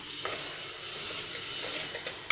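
Crushed garlic and small shallots, pounded on a grinding stone along with curry leaves, sauté in a pan with a soft, steady sizzle and a few faint stirring scrapes, heard close and alone.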